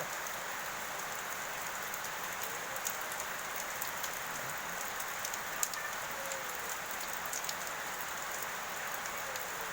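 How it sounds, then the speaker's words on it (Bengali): Heavy rain pours steadily on a rainy day around a house, a dense continuous hiss with scattered louder drops, close and even throughout with no voices. "ঘুম থেকে উঠেই দেখি এত বৃষ্টি হচ্ছে"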